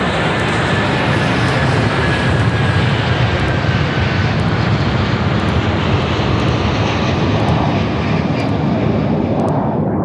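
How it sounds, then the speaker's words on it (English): An Airbus A330 loaded with over 47 tons of fuel roars down the runway on takeoff from Toronto, a loud, steady, dense engine rush that holds throughout. "At 10 minutes past 8, the Airbus A330, loaded with over 47 tons of fuel, left Toronto for Lisbon."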